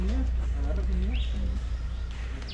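A bird calling at a Mayan eco park, with short cooing and chirping notes mixed under people talking over a low, steady background rumble.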